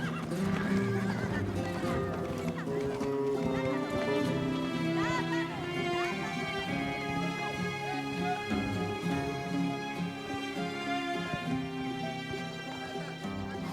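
A horse neighs loudly and repeatedly while its hooves clip-clop underneath, close and continuous throughout.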